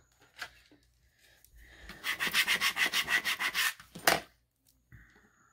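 A hand scraper rubbed over a work surface on a crafting table, producing a quick run of about a dozen rhythmic rasping strokes, then a few isolated scrapes, close and fairly loud with no talking.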